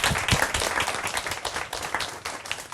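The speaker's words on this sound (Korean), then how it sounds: "다 같이 박수 한번 주세요." An audience at a Korean lecture show claps together, a dense fluttering burst of hand claps that carries on evenly for a few seconds.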